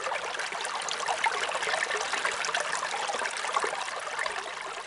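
Tap water runs steadily into a sink, a continuous hissing splash at moderate volume with no voices.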